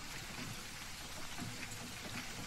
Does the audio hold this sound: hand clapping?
no